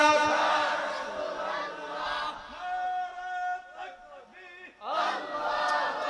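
A crowd at a Bengali Islamic waz gathering shouts takbir together in response to the preacher, a loud massed chant of voices that rises, dips briefly, then surges again.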